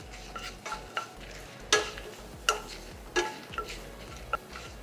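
Red chilies and turmeric powder fry in hot oil in a pan for Udupi-style sambar, a soft sizzle broken by sharp scrapes and clinks as a spoon stirs the mixture at irregular intervals.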